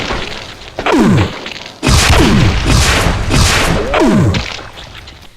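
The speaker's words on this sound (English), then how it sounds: "A rapid shotgun" A Mastermind boss in a Doom mod fires its rapid shotgun in several heavy booming blasts. Each blast is followed by a falling whine, and there are short gaps between the bursts.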